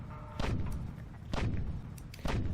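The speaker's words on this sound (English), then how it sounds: "I like these flak turrets. They do better than the plasma." Flak turrets firing in the game Empyrion, three heavy booming blasts spaced about a second apart, each with a short rumbling decay, loud and close with no talk.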